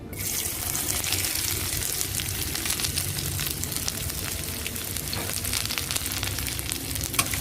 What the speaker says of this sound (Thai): ก็จะเจียวเป็นหอมค่ะ